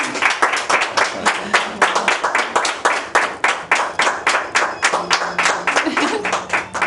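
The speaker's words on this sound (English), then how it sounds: "Let's give Adriana a big round of applause." A big round of applause for Adriana, with clapping in distinct rhythmic bursts, almost in unison and close and loud, repeating steadily throughout as voices murmur in between.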